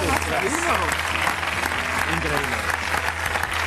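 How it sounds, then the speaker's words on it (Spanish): Studio audience applauding steadily on a Spanish television show, a dense wash of clapping with voices and exclamations mixed in throughout. "Un aplauso."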